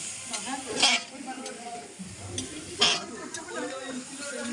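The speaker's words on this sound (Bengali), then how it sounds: "এবার জিরে ধনেটা দিয়ে দিলাম।" Cumin and coriander tossed into hot oil in a frying pan for dal, sizzling and crackling with a couple of sharp bursts as the spices hit and are stirred.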